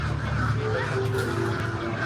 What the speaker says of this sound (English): right? All these birds.